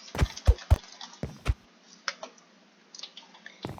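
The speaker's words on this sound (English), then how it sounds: "Now you can either tap the spacebar button, or you could press and hold it." Computer keyboard keys clicking while speed bridging in Minecraft, the spacebar tapped in quick bursts: three sharp clicks close together, a pause, two more, then softer scattered taps and a final click, close and isolated.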